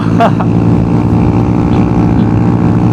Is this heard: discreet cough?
no